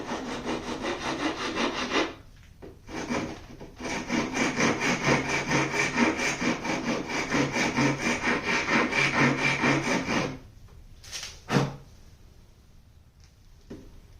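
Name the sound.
rasp filing wood on cigar box mandocello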